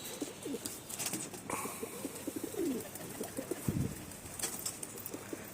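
Pigeons in a loft coo steadily in low, repeated throaty phrases, with several birds calling close by and occasional brief wing flaps, with no talking.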